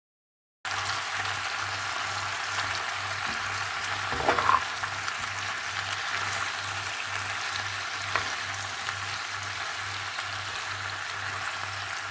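A steady, soft sizzle and bubbling of vegetables and summer squash stewing in a pan runs throughout, with a low hum underneath and a brief clatter partway through.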